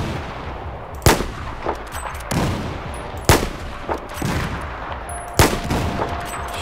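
Sharp gunshots crack in Battlefield 4, three loud single reports spaced a couple of seconds apart with softer distant shots and battlefield noise between them.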